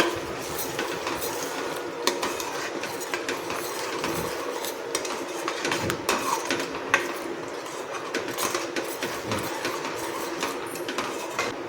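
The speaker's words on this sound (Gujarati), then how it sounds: "હવે આપણે બધું મિક્સ કરી લઈશું" A spoon stirs paneer masala gravy in a pan, with soft scraping, thick wet swishing and occasional sharp clinks against the metal.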